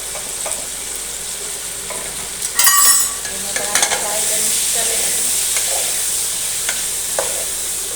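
Cucumber curry sizzles steadily in a hot pan while a spoon stirs it, with a brief louder clatter of the utensil partway through, no talking over it.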